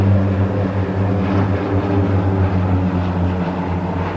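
A passenger aircraft able to carry up to 19 passengers, at the Royal International Air Tattoo, gives a steady, loud propeller-engine drone with a strong low hum. It stays constant throughout, with no voices.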